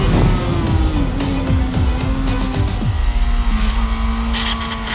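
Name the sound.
Chinese sport motorcycle engine braking in second gear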